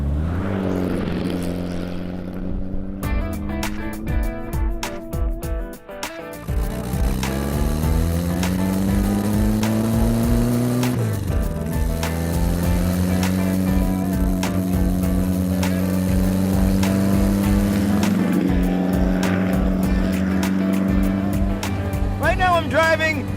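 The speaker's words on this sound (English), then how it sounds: "I'm driving the world's only handmade Runge FF004 Flyer. It's got a Porsche drivetrain from an old 356" A handmade Runge FF004 Flyer with a Porsche 356 drivetrain is driven hard, its engine note rising and falling through gear changes with wind and road noise, while someone talks over it.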